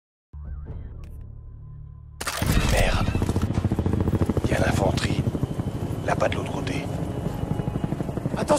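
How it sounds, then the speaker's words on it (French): Quiet electronic tones give way to the loud rhythmic thudding roar of Russian helicopter rotors in Battlefield: Bad Company 2, with game effects and voices over the din. "Les hélicos russes, merde,"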